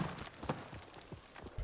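Horse hooves clip-clop in the feudal Japan video game Ghost of Tsushima, a quick run of soft, close hoof beats over a low ambient bed.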